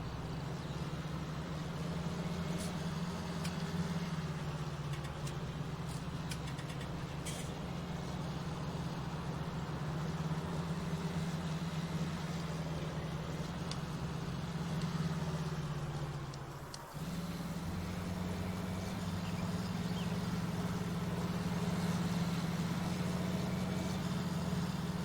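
Steady, droning tractor engine in Farming Simulator 19 during a canola field job, a constant low hum running throughout with a brief dip near the middle before resuming at the same level.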